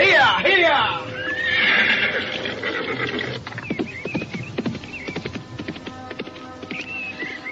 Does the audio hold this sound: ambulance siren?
no